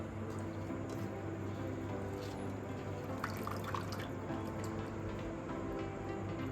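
Steady trickling and dripping of water draining from washed fenugreek leaves through a perforated strainer, close by, with soft splashes running continuously and no voices.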